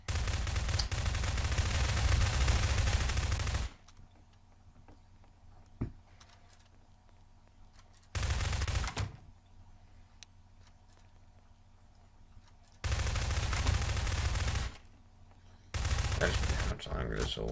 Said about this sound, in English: And they're just randomly shooting grenades.